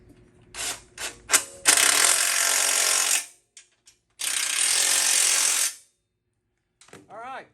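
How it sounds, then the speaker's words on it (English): Power drill whirring into metal on a minibike in two sustained bursts, each about one and a half seconds, with clicks and handling knocks before and between. "I gotta drill a hole here"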